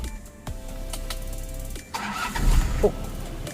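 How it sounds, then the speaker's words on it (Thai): A Toyota Mighty-X pickup truck's engine cranks after a few faint clicks, then catches and roars into a louder, rough idle near the listener, with no talking. "เดี๋ยวผมจะติดเครื่องให้ฟังเสียงนะฮะ"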